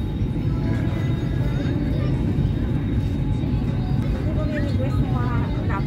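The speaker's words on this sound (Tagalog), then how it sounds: "Nandito na kami sa aeroplano." Steady low engine hum and cabin noise inside an airliner on a flight from Manila to Iloilo, a constant drone filling the whole clip, with faint voices murmuring in the background.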